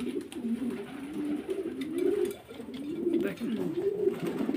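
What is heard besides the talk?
Roman pigeons cooing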